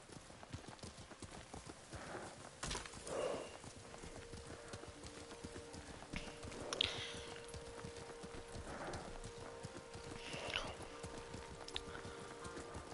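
Horse hooves clip-clop at an easy riding pace in Ghost of Tsushima, steady rhythmic footfalls close by, with an occasional snort or whinny and character dialogue spoken over the top.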